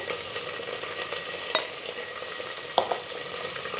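Turmeric and ginger-garlic paste fry in an oiled pan for Telangana-style boti curry, a steady close sizzle with a few sharp scrapes of a spoon stirring.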